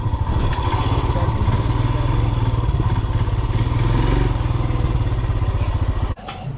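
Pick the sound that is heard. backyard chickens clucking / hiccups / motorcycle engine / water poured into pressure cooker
motorcycle engine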